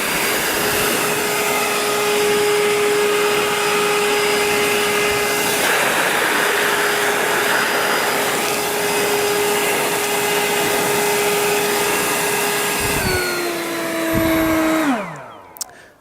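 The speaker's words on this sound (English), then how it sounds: "I will now push the turbo button." Ryobi 40v Whisper Series 730 CFM leaf blower running on turbo, a loud steady close whoosh with a high whine that drops in pitch and winds down as the motor stops near the end.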